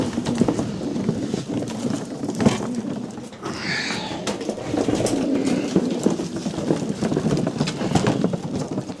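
Racing pigeons cooing during a training toss outdoors, soft repeated coos mixed with rustling and background noise, with a brief higher bird call midway.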